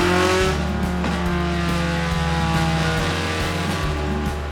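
A GLTC turbo race car engine roars loudly on a dyno, holding a steady high drone with rhythmic pulses and brief dips, heard close and alone.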